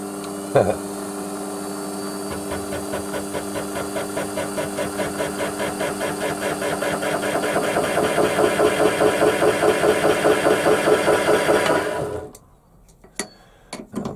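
A Warco metal lathe runs with a steady mechanical hum and rhythmic whirring that rises slightly in pace, then winds down and stops near the end, followed by a few light clicks.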